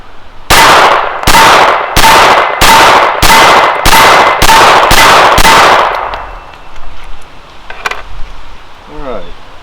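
A Glock 44 pistol loaded with Aguila ammunition from an 18-round ProMag magazine fires nine rapid, evenly spaced, loud shots at close range, then stops, leaving a quiet range.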